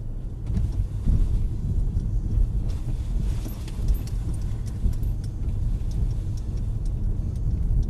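A manual Mercedes car accelerating under steady throttle, heard from inside the cabin as a continuous low engine rumble and road noise that holds fairly constant throughout.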